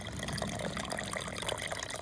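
Water runs and trickles steadily as a sludged-up central heating system is drained, a continuous faint splashing flow without pauses.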